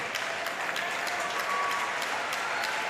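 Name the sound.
spectators applauding at para table tennis match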